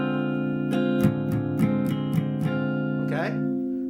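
A D half-diminished chord sounds on guitar, a held ringing voicing under a series of evenly spaced picked notes, with a brief scratchy slide near the end.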